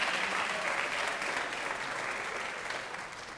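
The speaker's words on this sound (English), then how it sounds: "Round of applause for Caroline." Sustained applause from a school spring choral concert audience greeting a graduating choir student, a dense, steady wash of clapping that fades slightly toward the end.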